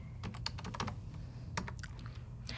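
Rapid keystrokes on a computer keyboard as a command is typed into a Raspberry Pi terminal, a burst of close clicks, a pause, then a few more taps, over low background hum.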